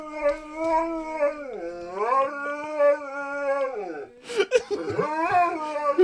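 A pet dog howls along in long wavering tones that rise and fall, then breaks into yelps and whimpers before howling again, loud and close.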